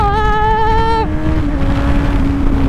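Suzuki 750 GSR motorcycle engine revving high, a loud steady whine that falls in pitch about a second in, then holds a lower drone with wind rush over the microphone.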